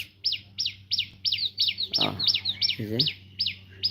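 Small birds repeat sharp descending chirps in a steady, evenly spaced series on a morning outside, loud and close. A voice speaks briefly underneath.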